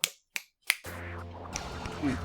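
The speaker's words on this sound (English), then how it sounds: "I was snapping my fingers" Three sharp finger snaps, evenly spaced and close, sound alone before a steady background of video game music and sound effects takes over.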